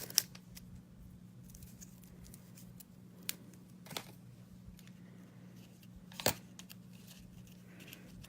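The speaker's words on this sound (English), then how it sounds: "let's just cut here" Scissors cut through card-making paper in a few brief, scattered snips and crinkles over a quiet steady hum, with no voices heard.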